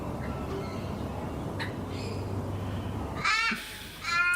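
Crows caw in a couple of short, harsh outbursts near the end, rising out of a steady wash of outdoor background noise.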